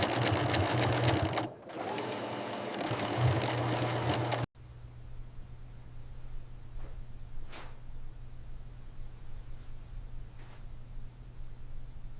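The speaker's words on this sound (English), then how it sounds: "Automated embroidery adds logos and designs." Automated embroidery machines stitching logos on a bra factory floor give a loud, dense mechanical chatter for several seconds, then cut to a lower steady industrial hum with faint intermittent taps.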